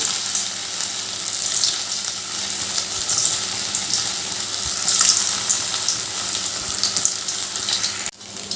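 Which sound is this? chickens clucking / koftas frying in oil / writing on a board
koftas frying in oil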